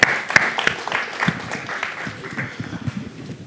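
Audience at a design thinking masterclass cheering and applauding the presenters, with scattered claps and voices forming a moderate burst that thins out over a few seconds.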